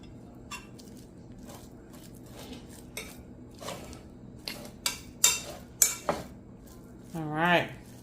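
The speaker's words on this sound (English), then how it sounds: "Let's go ahead and fluff the cracked wheat and plate this dish." Cooked cracked wheat is fluffed and split pea curry plated, with close scattered clinks of a utensil against a pot and dishes, some sharper knocks and scrapes, and a brief voice near the end.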